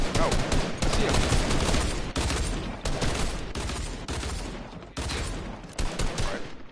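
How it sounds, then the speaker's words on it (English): Video game gunfire in rapid bursts and fusillades, loud and close. The shots come in clustered volleys with short gaps between them. "Alright, well, shooting at me now."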